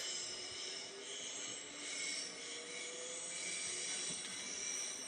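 A train running in the game Train Sim World: a faint, steady rail rumble with thin wheel squeals and light creaks, continuous and without speech.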